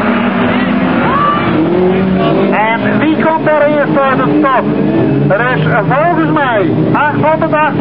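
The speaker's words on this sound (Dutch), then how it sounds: "Er is een Kobus die vanaf de start de koppositie inneemt. En weg zijn ze." Autocross race car engines rev and roar off the start under excited Dutch-language commentary, with rising and falling engine whines overlapping throughout.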